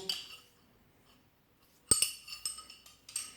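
Metal SDS flat and pointed chisels clink against each other as they are handled while unboxing a Parkside PBH 1500 D4 hammer drill, giving a few sharp, close taps and rattles after a quiet start.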